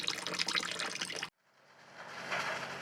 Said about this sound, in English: water is now pouring out